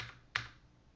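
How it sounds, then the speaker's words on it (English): A single sharp key press on a computer keyboard, close and crisp, followed by quiet. "I can also just use keyboard shortcuts for going straight"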